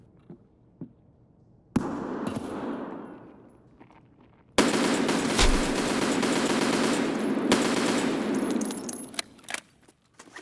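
Gunfire in Escape From Tarkov: a few isolated shots, then a sudden burst of loud, rapid automatic fire that rings out and tails off, followed by a longer sustained barrage of close, sharp shots.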